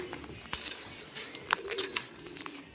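Soft pigeon calls and cooing come from nearby, mixed with a few sharp clicks and taps over a quiet background.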